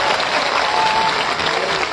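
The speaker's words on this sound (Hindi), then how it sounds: "वो भाई चौधरी नाम राम किशन जाट के लिए भी जोरदार तालियां अभिनंदन।" A crowd at an outdoor Khejri tree protest meeting in Bikaner claps loudly and continuously, a thick, even roar of applause throughout.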